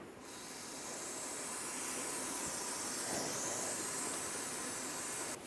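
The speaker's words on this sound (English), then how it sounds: "clean any drippage with brake parts cleaner" Brake parts cleaner is sprayed onto a freshly installed front brake caliper of a 2008-2012 Honda Accord, a soft, steady hiss that runs unbroken for several seconds.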